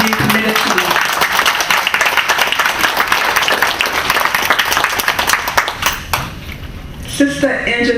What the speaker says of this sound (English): Let's give Sister Nandi, Sister Ed Johnetta Miller, and Sister Andy a round of applause for being committed to me.